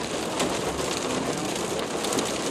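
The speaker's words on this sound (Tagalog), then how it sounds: "Tignan mo yung ulan." Heavy rain pours down in Doha, Qatar, a dense, steady hiss of drops drumming on surfaces, close and continuous without a break and with no talk over it.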